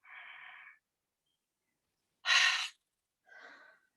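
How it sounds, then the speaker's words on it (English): Slow breathing during a relaxation exercise: a soft drawn-out breath, a pause of silence, then a sharper, louder exhale followed by a quieter breath, all close and alone. "So breathing in."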